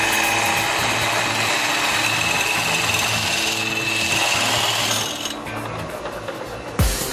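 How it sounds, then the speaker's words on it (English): Bicycle frame tube clamped in a vise and cut with a circular bit the same size as the tube, a loud steady mechanical whirring that drops in level near the end and closes with a short squeal. "it's drilled with a circular bit the same size as the tube to which it'll be connected"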